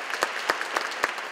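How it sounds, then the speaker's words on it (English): High school and Catholic Academy students applaud inside St. Saviour Church. A few distinct claps stand out at a faint level, spaced about a quarter second apart. "Applause rung out at St. Savior Church as their high school and Catholic Academy students met Bishop-designate Robert Brennan."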